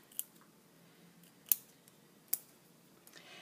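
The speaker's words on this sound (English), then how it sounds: "all you do is you just trim around the edges" Scissors trim around the edges of a glossy photo, giving three sharp, close snips spaced apart over a quiet room background, with no talking.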